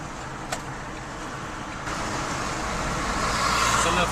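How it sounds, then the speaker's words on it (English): Camper van cruising on a motorway near Kraków on a Sunday morning, giving a steady loud interior road roar and engine drone that swells slightly partway through, with no one speaking. "It's a lovely Sunday morning for a drive in Małopolska."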